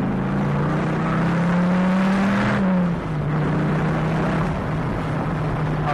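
A Dodge Viper accelerating in second gear from inside the cabin, a loud steady engine drone rising in pitch, then a brief dip and a lower tone as it continues pulling.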